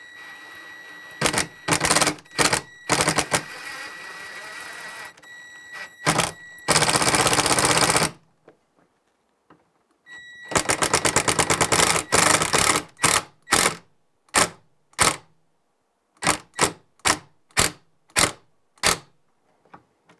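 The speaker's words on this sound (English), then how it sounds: "I can put my screw in" Screw driven into a broken wooden chair leg spindle with a power driver, heard as loud bursts of whirring separated by pauses and then a run of short, evenly spaced pulses as the head sinks in; no talking.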